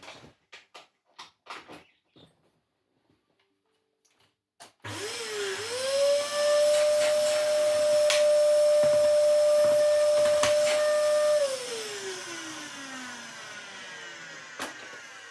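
After a few clicks and taps, a Dyson handheld cordless vacuum cleaner whirs up to a loud, steady high-pitched whine, then winds down as it switches off.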